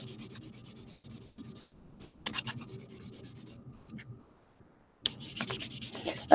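Pardo jewelry clay faux gemstone being sanded by hand, with repeated close scratchy rubbing strokes in bursts and short pauses between them.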